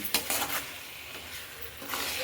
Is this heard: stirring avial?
yes